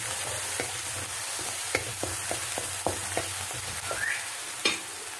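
Onion and chicken fry in a kadai with a continuous bright sizzle, broken by a quick series of light clicks and taps from stirring.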